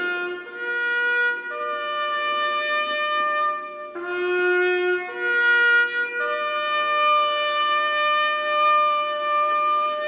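Taps, the melody by Dan Butterfield, playing from an old record: slow, sustained clear notes held one after another in a gentle, mournful line, steady and moderately loud with no voices.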